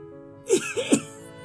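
A man gives two or three rough, throaty coughs in quick succession, close and fairly loud, over a steady low background hum.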